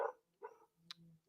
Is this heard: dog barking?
yes